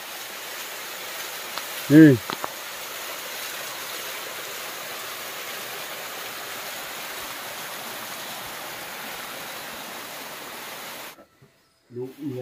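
A waterfall near a Naga village gives a steady, broad rushing roar that stays constant for about eleven seconds. A short voice cuts in early on, and the water noise ends abruptly, with a few faint sounds after it.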